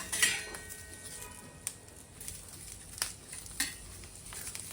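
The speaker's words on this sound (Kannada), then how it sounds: "ನೋಡಿ, ಈ ಥರ ಫ್ರೈ ಮಾಡ್ಕೋಬೇಕು." Ingredients for a spicy chutney frying in a pan, with a soft low sizzle under repeated scraping stirs and occasional sharp clinks of a utensil against the metal.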